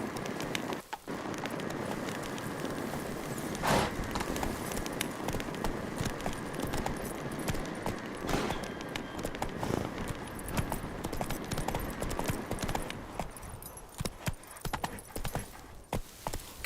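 Roach the horse's hooves clip-clopping in The Witcher 3: a steady, rapid stream of hoofbeats from a running horse with jingling tack, continuous and fairly close across the whole stretch.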